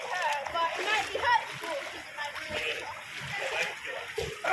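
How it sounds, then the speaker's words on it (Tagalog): Water splashing and sloshing around rocks at Avoca, a cold fishing spot, with continuous choppy splatter throughout and voices talking over it. "Tampisaw sa tubig."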